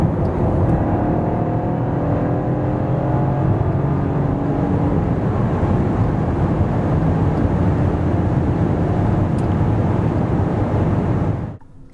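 A Renault Austral E-Tech 200 hp hybrid (2025 facelift) accelerates from 90 to 140 km/h, a steady loud whir of engine and road and wind noise heard from inside the cabin, holding level before cutting off abruptly at the end.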